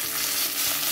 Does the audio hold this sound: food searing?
yes